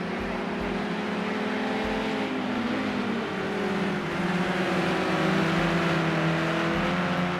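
Race car engines in Project Cars 2 at the Sugo circuit, a BMW among them, drone and rev steadily throughout, with rising and falling tones of several cars close by, loud and continuous with no talk.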